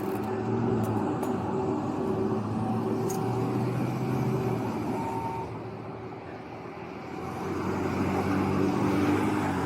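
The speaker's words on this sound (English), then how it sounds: "We're gonna wait for these cars to clear and then we're gonna cross." Cars and other vehicles passing along a Florida roadside, a continuous broad road roar that dips briefly and then swells again as traffic goes by, with no talk.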